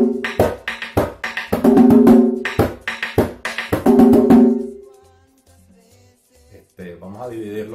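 Dominican tambora beating a merengue ritmo derecho, with stick strikes and palm slaps in a quick repeating pattern, close and loud, then a pause before a voice starts speaking.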